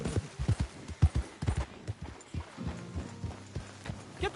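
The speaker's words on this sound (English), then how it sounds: "Get the horse out of here!" Horse hooves clip-clop in a steady, close rhythm in Red Dead Redemption 2, with a few strong thuds early on and a faint low hum beneath the later steps.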